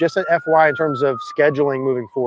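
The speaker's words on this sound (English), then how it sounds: "Sorry about the siren." Someone talks in the foreground while a siren wails steadily behind his voice, a long high tone that slowly drifts in pitch.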